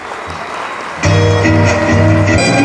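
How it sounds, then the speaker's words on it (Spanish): Applause from a fair audience for Esmeralda at a coffee fair queen coronation in Zoquiapan, starting abruptly and swelling into steady clapping, with music tones running beneath it. "el aplauso fuerte para Esmeralda"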